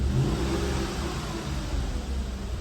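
Engine-swapped VW Touareg revving steadily, a mid-pitched engine drone that holds fairly constant and close for a couple of seconds with no talking.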